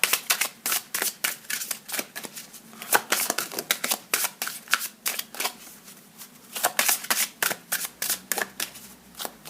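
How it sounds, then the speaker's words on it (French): Tarot cards being shuffled by hand in repeated crisp riffling bursts, close and fairly loud, with brief pauses between runs and no voices. "ces cartes, elles amènent souvent un éclairage très intéressant sur le tirage"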